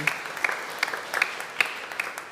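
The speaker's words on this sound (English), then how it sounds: "I really want you all to give yourselves a round of applause for that" Scattered, light clapping from a church congregation at a Sunday service, a handful of distinct claps with irregular rhythm, fairly close and modest in volume.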